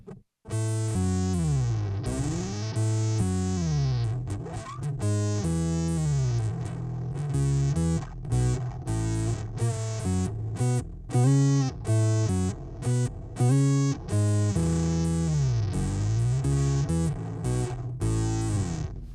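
Bass guitar played through effect pedals in series with a Hall of Fame reverb, a melodic line of plucked notes with spacious, ringing tails, loud and close, alone without talk.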